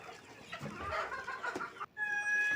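Chickens on a poultry farm cluck and murmur continuously nearby, a busy overlapping chorus that briefly drops out before a thin high whistling tone joins in.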